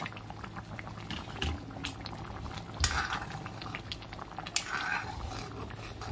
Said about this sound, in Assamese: এয়া কচুখিনি খুব ধুনীয়াকৈ উতলিছে